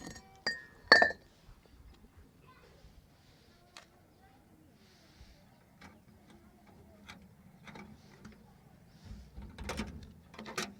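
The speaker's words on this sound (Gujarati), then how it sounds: "તાળું ખુલી ગયું" A padlock on a pigeon coop clicks open with a sharp metallic clank near the start, followed by faint rattles and small clicks against a quiet background.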